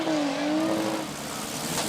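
Race cars at a women's demolition derby at the Chino Challenge roar loudly, one engine's pitch sliding and holding as it revs, with more motors droning underneath across the arena.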